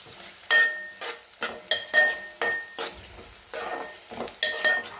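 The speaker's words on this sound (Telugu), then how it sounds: "ఈ మూడింటిని వేసి బాగా కొంచెం ఫ్రై కానివ్వాలి." Onions, curry leaves and spices fry in a pan, with a soft sizzle under repeated scraping stirs of a spoon against the metal, about eight or nine strokes in a loose rhythm, close and clear.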